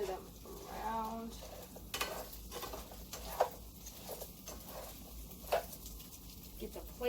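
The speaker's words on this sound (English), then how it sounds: "Stir them around." Food being stirred around in a frying pan while making a home breakfast, with soft scraping and patter over a faint sizzle, close by and moderately quiet, with occasional speech nearby.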